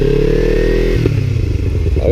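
A motorcycle engine revs loudly and close on a hill, then its note shifts as the clutch engages and the bike pulls away from a stop, with a brief clatter partway through.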